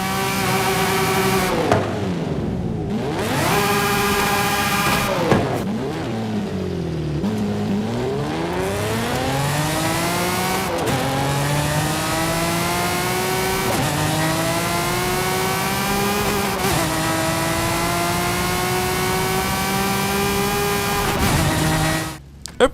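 Forza Horizon 5 car engine revving high in the video game, with repeated rising and falling sweeps as it climbs toward a raised redline and shifts gears, loud and continuous with no talk.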